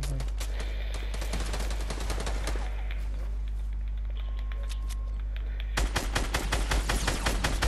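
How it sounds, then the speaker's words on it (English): Gunfire fills a Fortnite Battle Royale duo match, with rapid automatic bursts and dense overlapping shots running steadily throughout and growing louder and busier near the end. "I'm getting shot by the die cast."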